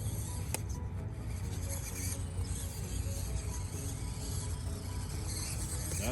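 Axial RC rock crawler grinding up a rocky climb at full throttle, a continuous whirring, ratcheting gear and motor noise with scraping of tires on rock, close and fairly quiet.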